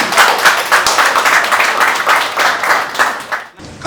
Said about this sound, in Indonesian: Bisa beri tepuk tangan.